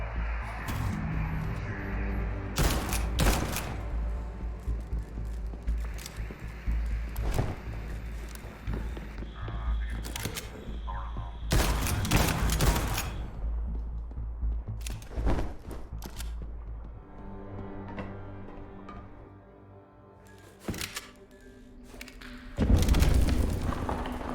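Gunshots from the video game Liberated, a handful of loud, sharp cracks spaced several seconds apart over a steady game soundtrack, with a quieter stretch before the last burst.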